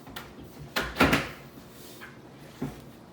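Klearvue cabinet drawer front panel being pushed and snapped into place during assembly, a couple of sharp plastic-and-wood knocks with a louder clack in the middle and a lighter tap later, fairly close, no speech.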